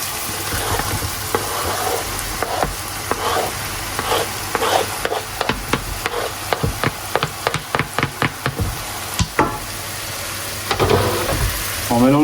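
Mushrooms frying in a pan with garlic and onion, a steady close sizzle broken by repeated sharp clacks and scrapes of a utensil stirring, the knocks clustering in the middle and trailing into softer rustling at the end.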